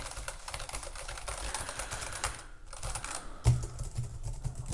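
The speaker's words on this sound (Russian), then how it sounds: "Здесь такой кликающий звук." Typing on a mechanical keyboard with clicky switches: a fast, close run of crisp keystroke clicks with a brief pause near the middle and a heavier thump, likely the space bar, near the end, no voices.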